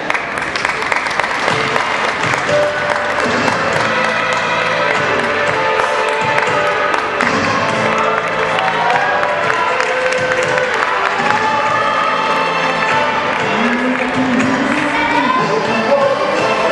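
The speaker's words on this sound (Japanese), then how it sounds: "盛大な拍手でお迎えください。" Crowd at a 2010 All-Japan wrestling championship Greco-Roman 60 kg final applauds loudly and continuously as the wrestlers enter, a thick sustained wash of clapping with murmuring and cheers in the arena.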